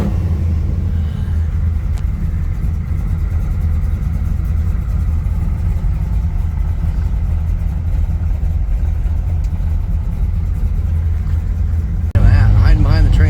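Classic car engines idle and rumble steadily close by as a large touring group sets off on a long-distance drive through Nebraska, a continuous low drone with a louder burst near the end.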